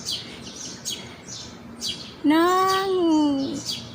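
A bird calls near a nest with chicks in a rural farm setting, sending out short bright chirps at regular intervals, then a longer clear whistled note that rises and falls, sounding close and loud over quiet background.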